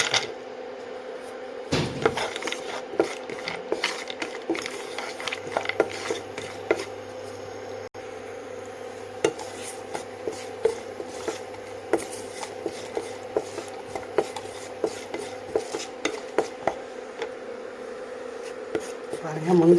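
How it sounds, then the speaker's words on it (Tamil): Cashews frying in melted ghee in a pan for rava kozhukattai, stirred with a utensil: a faint, steady background hum with scattered soft scraping ticks and clicks throughout, and no loud sizzle. "முந்திரி வச்சுட்டு வறுக்கலாம்."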